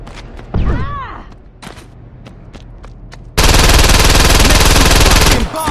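Automatic gunfire in Saints Row 2 on Xbox 360, loud and close. Scattered single shots and thumps come first, then a dense sustained burst of rapid fire fills the last couple of seconds.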